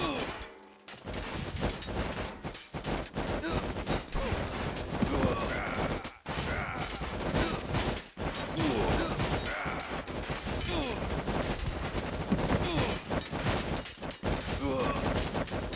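A massed volley from Archidon archers in the mobile game Stick War Legacy during a boss battle against an ice-themed final boss, dense crackling bursts of arrows and impacts layered into a loud, chaotic battle din that barely lets up.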